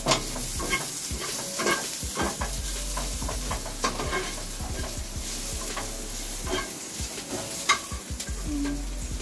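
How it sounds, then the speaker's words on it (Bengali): Fish frying in a pan in a home kitchen: a steady sizzle throughout, broken by sharp scrapes and clinks as it is stirred and turned, close by with no talking. "মাছ ভাজা হচ্ছে"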